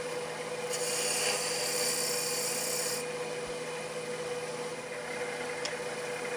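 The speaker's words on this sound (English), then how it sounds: "made a peeling or a series of peeling cuts with the skew chisel flat on the rest to establish the diameter of the base" A skew chisel held flat on the tool rest makes peeling cuts into spinning wood on a lathe while turning the base of a multi-axis goblet, giving a steady, continuous rasping hiss over the machine's constant hum, with no talk.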